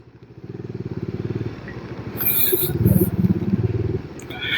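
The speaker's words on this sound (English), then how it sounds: "it was just noises of my bike revving and slight mumbling" Motorbike engine revving up close, its pulsing rumble rising and falling in repeated bursts, with muffled mumbling voices underneath.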